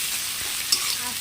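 Onions sizzling steadily in hot oil in a village-style kitchen, a bright continuous frying hiss with a brief utensil scrape as they are stirred.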